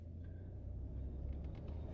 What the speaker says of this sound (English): But I'm stuck in traffic.